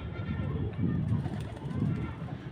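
A male pigeon coos beside a female in a pigeon loft on a cloudy evening, giving soft low rhythmic coos in a few pulses, close and moderately faint, with background noise.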